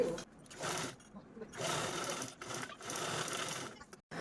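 A sewing machine stitches cloth for a shoe organizer made from old clothes, running in several close, rapid buzzing bursts separated by short pauses.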